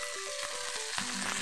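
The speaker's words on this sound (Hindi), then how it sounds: "इसको मैं हल्का सा फ्राई करूंगी, कुक करूंगी।" Broccoli lightly frying in a pan for a smoky potato dish, a steady close sizzle with soft crackles and a few stirring scrapes, no voices.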